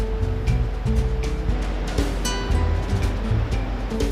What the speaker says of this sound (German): Der grösste Wasserfall von Europa, der Rheinfall.